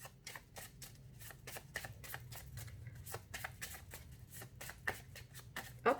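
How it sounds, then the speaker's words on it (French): Tarot cards shuffled and drawn at a reading, a steady run of quick, crisp riffling flicks repeating close by with a low hum underneath and no talking. "Et là, on tire les cartes."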